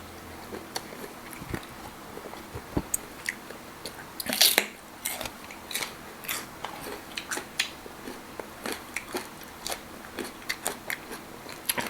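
Crunchy food is chewed close to the ear, with sharp irregular crackling bites and crunches repeating throughout, one louder crunch near the middle, no talking.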